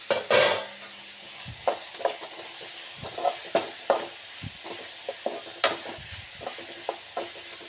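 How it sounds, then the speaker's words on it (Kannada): Green chillies fry in a pan for paneer masala, with a soft steady sizzle under repeated spoon stirs and scrapes against the pan, close and fairly quiet. "ಈಗ ಇಲ್ಲಿ ಹಸಿಮೆಣಸನ್ನು ಆ್ಯಡ್ ಮಾಡ್ತಾ ಇದ್ದೇನೆ."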